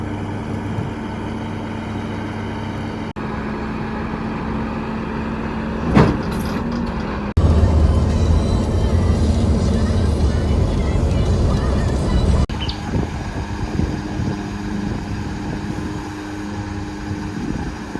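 A tow truck hauling a broken-down van drives along the road with a steady loud engine drone and road rumble that shifts in character partway through.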